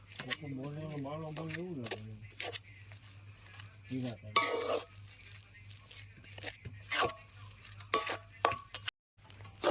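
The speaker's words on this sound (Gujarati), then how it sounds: "હવે આને કરીશું આપણે એકદમ મિક્સ" A spoon scrapes and stirs a spiced masala filling with coriander, cumin powder and salt in a pan for stuffed papad, with scattered soft scraping strokes and a faint sizzle, while someone talks at the start.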